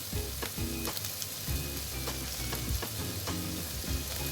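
Tomatoes sauté over a low flame for a coconut milk fish curry, giving a continuous close sizzle with repeated soft scraping strokes of a stirring spoon.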